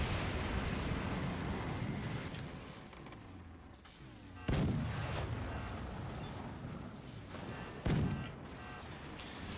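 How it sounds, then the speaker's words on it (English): Tier 3 cannons firing in the physics-based fort-building strategy game Forts, with loud booming shots at roughly four and eight seconds, each trailing off in a long rumbling decay over continuous battle noise. "We'll place this cannon, let it start dangling and stabilizing, and then refire."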